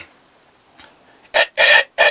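A human voice imitates a long rooster crow, delivering three loud, close bursts in quick succession after a quiet start.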